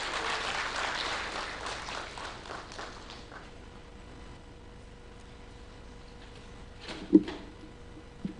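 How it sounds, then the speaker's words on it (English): An audience applauds as the chief guest leaves a public service superannuation fund event, a dense, moderately loud patter of clapping that fades over several seconds into room quiet, followed by a single sharp knock. "A round of applause as he leaves"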